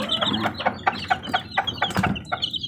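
Young chicks, grown fairly large, kept under a light, cheep and cluck repeatedly in short close bursts, a busy overlapping chorus with no talking.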